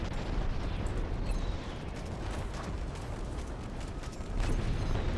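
Torpedo salvo explosions in the space combat game Strike Suit Zero: Director's Cut, a dense, continuous low rumble with crackling debris and mechanical clatter, loud and sustained throughout with a swell near the end.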